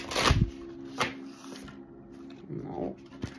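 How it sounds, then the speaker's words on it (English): Tarot cards are shuffled by hand in short riffling bursts, a sharp flurry at the start followed by lighter shuffles and taps, close and clear with no talking. "one more shuffle"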